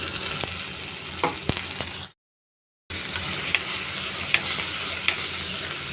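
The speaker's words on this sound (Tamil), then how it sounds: "இந்த எண்ணெயிலே நல்லா வறுத்து எடுத்துக்கலாம்" Dried fish frying in oil with chillies makes a close, steady sizzle dotted with sharp spits and pops, cut by a brief moment of total silence before the frying resumes.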